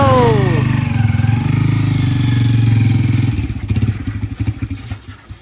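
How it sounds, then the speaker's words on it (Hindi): A motorcycle engine idles steadily and loud, then falters into an uneven, sputtering clatter and dies away toward the end, with voices talking over it. "मोटरसाइकिल ही बंद हो गया इधर"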